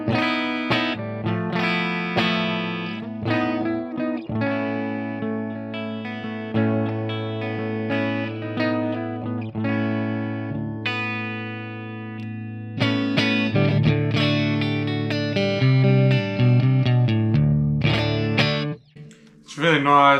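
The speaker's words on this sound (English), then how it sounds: "It's got EL34s, 12AX7s in the preamp, and you know, it does dirty, which you heard" A 50-watt tube guitar amplifier with EL34 power tubes and 12AX7 preamp tubes plays a crunchy, distorted tone in sustained chords and riffs, loud and close, with a brief pause near the end.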